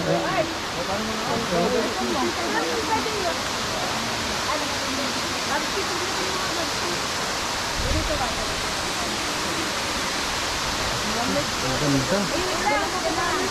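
Bolinao Falls, a waterfall in Pangasinan, roars as a loud, steady broadband rush of falling water close by, with scattered voices talking over it throughout.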